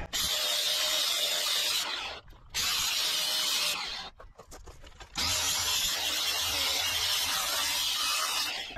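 A flap disc on a grinder scouring rust off a John Deere B tractor's steel wheel, a loud harsh continuous grind that cuts out briefly twice before resuming.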